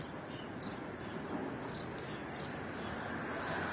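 Pigeons flying around a mosque minaret, with a hawk about, coo faintly over a steady outdoor rush of noise, with a few soft bird calls scattered through.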